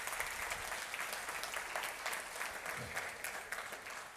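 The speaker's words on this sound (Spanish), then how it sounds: "Dale un aplauso al Señor por su misericordia" A church congregation claps steadily for a few seconds, dense and continuous, filling the room as a round of praise.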